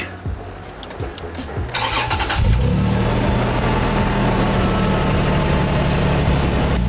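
A second-generation Toyota Tacoma pickup with about 131,780 miles cranks briefly after an oil change, then catches and settles into a loud, steady close-up idle.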